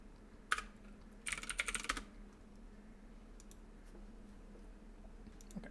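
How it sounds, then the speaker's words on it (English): Brief bursts of typing on a computer keyboard, a quick cluster of clicks followed by a longer flurry of keystrokes, then scattered faint taps over a quiet room hum. "typed that wrong."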